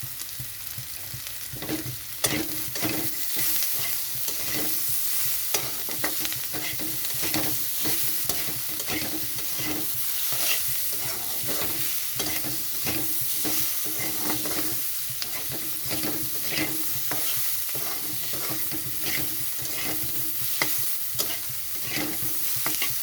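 Capsicum, potato and onion fry in very little oil, giving a constant close sizzle punctuated by frequent rhythmic scraping strokes of a spatula stirring the pan, with no voices.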